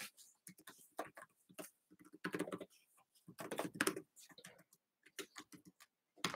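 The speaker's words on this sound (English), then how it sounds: "I can actually type really fast on this thing." Rapid typing on a Framework laptop keyboard, with quick bursts of close, crisp key clicks in an uneven rhythm and brief pauses between runs, heard alone.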